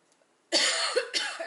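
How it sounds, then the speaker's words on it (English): After a brief silence, a person coughs nearby, a sudden harsh burst followed by two shorter rough coughs in quick succession, loud and close. "Of course, I start coughing"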